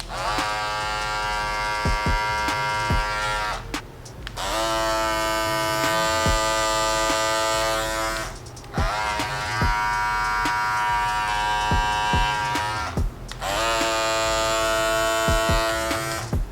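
Gold Andis Master electric hair clippers buzz steadily in three long runs, each switched off briefly before starting again, loud and close with no talking.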